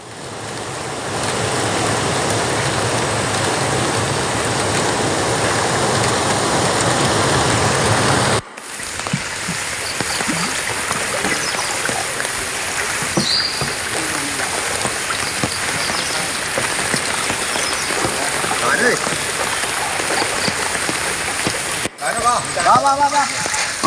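Heavy rain and floodwater rush over the Manikandanchal causeway at Kuttampuzha, Kothamangalam. The loud, unbroken roar of water fills the scene, with two abrupt cuts partway through.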